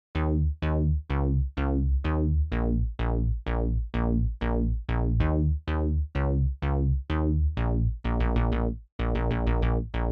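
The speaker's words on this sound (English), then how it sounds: "I went for this 80s disco funk kind of bass that I found on Alchemy" An 80s disco funk synth bass from Alchemy plays a simple, punchy line of short, heavy repeated notes in a steady bouncing rhythm. A quick run of faster notes comes near the end. It is loud and plays alone.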